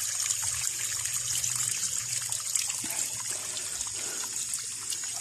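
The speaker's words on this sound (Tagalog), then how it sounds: "Yan po yung pinakang bukal" Water trickles steadily from a natural spring, a continuous close splashing dribble with no voices.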